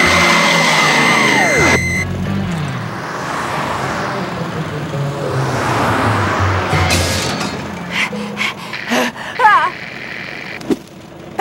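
A car engine driving through traffic in an animated scene, a running motor with a siren-like sweep and passing road noise, fading into scattered bumps and clatters.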